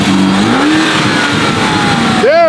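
A Lamborghini Urus super SUV engine runs loud and close, holding a rising drone before a sharp final rev that climbs steeply in pitch, with no voices over it.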